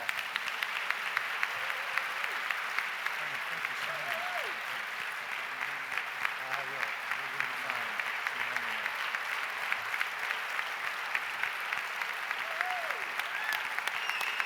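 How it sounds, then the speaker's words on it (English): A large audience applauds steadily to honor a teacher receiving a distinguished service award in teaching and learning, dense continuous clapping with faint tonal whistles or cheers mixed in. "Please give Ron another huge round of applause."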